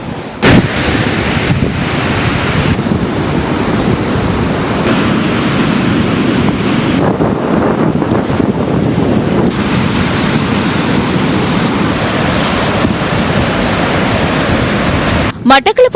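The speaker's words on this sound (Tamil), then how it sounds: "எனவே கடல் கொந்தளிப்பாகவும் அபாயகரமாகவும் இடைக்கிடை காணப்படும்." Rough, dangerous sea off the Ampara district coast roars in a loud, unbroken wash of surf with strong wind buffeting the microphone throughout.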